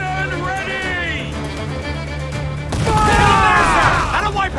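Ship cannon fire in Assassin's Creed 4 Black Flag, a broad volley of booms that swells into a loud roaring burst partway through, layered over steady battle noise with a voice briefly heard.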